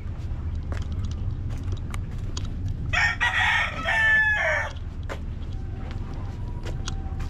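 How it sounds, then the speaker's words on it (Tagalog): A fighting rooster in a Tondo, Manila neighborhood crows once, loud and fairly close, a drawn-out cock-a-doodle-doo over low outdoor rumble and faint scattered clucks. "karamihan mga alaga nila, mga panabong na manok."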